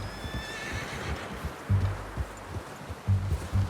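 A horse in the Western video game Red Dead Redemption gives a short whinny, followed by snorts and clip-clopping hooves with soft rustling nearby.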